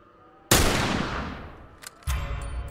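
A single sharp, loud gunshot cracks in The Last of Us inside a tunnel, its blast decaying over about a second, followed by a fainter click and then a second deep thud.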